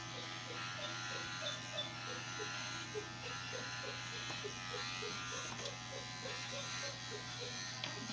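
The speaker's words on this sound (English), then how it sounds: "you want to start shaving the bottom of her little rib cage here" Electric clippers buzz steadily at low level while shaving an animal patient's belly before surgery in a veterinary clinic, a continuous hum with faint pulsing strokes throughout.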